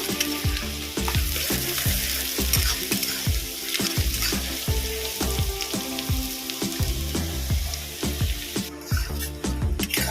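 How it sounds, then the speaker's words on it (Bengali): Chopped onions fry in hot oil in a wok, a dense, loud, continuous sizzle broken by regular spatula scrapes and clanks against the metal, close up and without speech. "পেঁয়াজটা ভালো করে ভেজে নেব"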